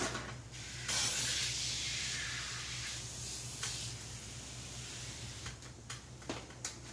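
A spray bottle sprays degreaser onto the engine of a 1966 Ford F100 truck, hissing in a long steady burst, followed by a shorter spritz and a few quick pumps, close and moderately loud.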